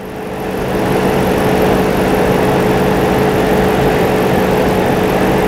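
A 2011 Chrysler 300C engine with a misfire idles with a steady, even drone that swells in over the first second and then holds constant, loud and close.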